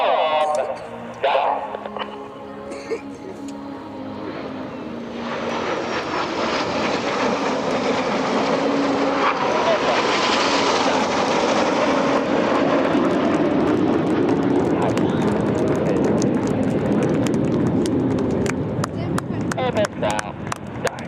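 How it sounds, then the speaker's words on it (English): RAF Red Arrows jets making a head-to-head crossing pass at EAA AirVenture airshow, engine roar swelling from distant rumble to a loud, sustained broadband roar overhead that lingers and slowly fades, with some crowd chatter early on. "As the aircraft continue around towards each other, they're going to fly the first of many head-to-head passes for the show"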